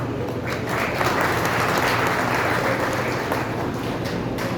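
Continuous crowd clapping from a large audience at an outdoor political speech during a Kabir Jayanti celebration in Samastipur, steady and dense throughout with no pauses.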